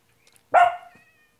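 A single short, loud animal call from the Minecraft video game, standing alone against near silence and sounding more like a sharp bark than a meow.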